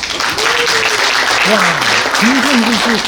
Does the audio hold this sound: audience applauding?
yes